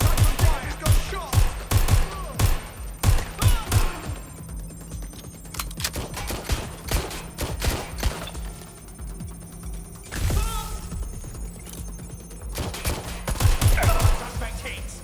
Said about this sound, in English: Incoming fire! Suspect is open fire!